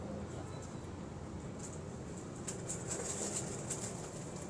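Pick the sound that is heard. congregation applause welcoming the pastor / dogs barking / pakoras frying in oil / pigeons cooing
pigeons cooing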